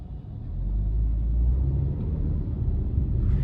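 Small 2021 Chevy Spark with a 1.4-liter engine heard from inside the cabin while driving, a steady low rumble of engine and road noise that swells slightly, with no talking.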